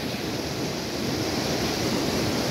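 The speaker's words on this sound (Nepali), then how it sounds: "बर्खायाम सुरु भएसँगै अविरल भारी वर्षाका कारणले गर्दा यति बेला यो खोलाको पानीको बहाव बढेको छ" Khadu Khola, a Nepali river in Nisikhola, swollen by heavy monsoon rain, roars as a steady, loud, broadband rush without a break and with no voices.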